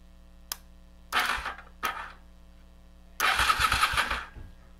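An engine cranks in short bursts after its starter solenoid is jumped, with a faint click first, then two brief cranking attempts and a longer grinding crank near the end against a low background hum.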